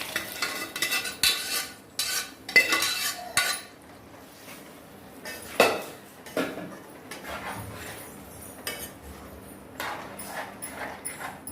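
A spoon repeatedly scrapes and stirs mashed potato into thick chickpeas in a metal pan, with irregular clinks and soft squelching, close up.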